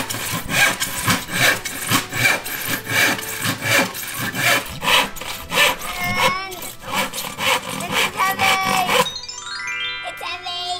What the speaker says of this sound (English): When I finish cutting that tree, it's going to come down.